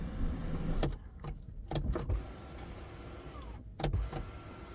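The electric sunroof of a 2023 Mercedes-Benz A200d sedan closes with a low, steady motor hum inside the cabin, broken by several sharp clicks and thuds as the panel moves and seats, no talking.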